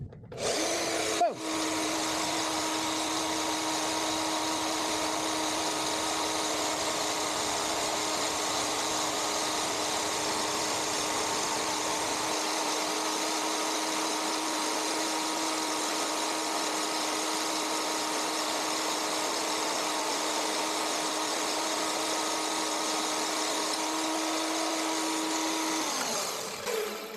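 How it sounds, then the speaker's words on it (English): A power tool cuts through aluminum, run by pulling down a lever to engage it. It makes one loud, steady, continuous whine lasting nearly half a minute with no talking, then stops abruptly. "It kind of tore through that aluminum a little bit faster than I thought."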